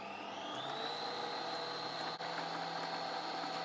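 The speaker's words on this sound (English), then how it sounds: "Wind the bobbin up." Sewing machine winding a bobbin, with a steady whirring motor hum whose pitch rises slightly and then holds even, with one brief click partway through.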